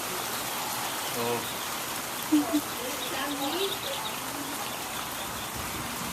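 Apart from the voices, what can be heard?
summertime rain falling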